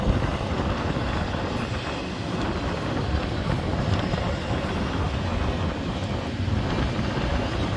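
A train rumbles past nearby as a steady, loud wash of low mechanical noise that holds without a break.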